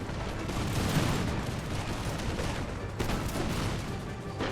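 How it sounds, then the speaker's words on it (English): Cannons and musket volleys roar in an American Revolution video game battle, a dense, continuous rumble of gunfire with overlapping booms and no pauses, loud and close. "You can see one of their cannons is starting to fire out there"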